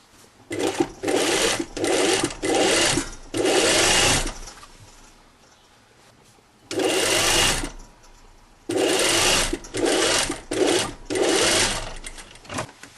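Domestic sewing machine stitching a seam on a kit-sewn "Brigand" jacket, running in several loud, steady bursts of rapid stitching separated by short pauses and a longer quiet gap near the middle.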